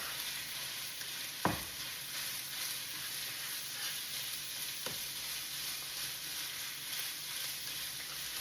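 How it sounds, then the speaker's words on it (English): Ground beef and Italian sausage browning in a pan give a steady, even sizzle throughout, with two sharp utensil knocks against the pan near the start and middle. "So the beef is being browned. The Italian sausage is being browned."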